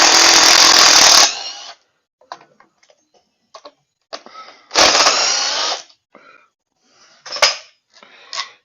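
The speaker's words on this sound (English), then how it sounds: "Then we got to pull all these bolts out that hold the pan on." Oil pan bolts being removed from a Briggs & Stratton V-twin engine with a power tool: two long, loud buzzing bursts, then scattered metallic clicks and rattles of loosened bolts, close up.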